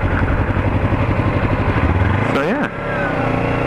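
A Kawasaki Ninja 300 engine hums steadily while the bike is ridden, then drops in pitch as the revs fall off, with a rider speaking briefly over the engine.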